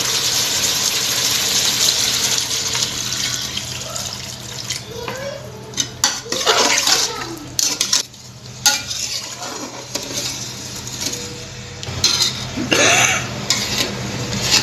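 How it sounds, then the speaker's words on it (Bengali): Water poured into beef being cooked in a rice cooker to make curry gravy, splashing and sizzling over hot meat with clattering and stirring, bubbling bursts through the middle. "আমি এবার ঝোলের পানি দিয়ে দেবো"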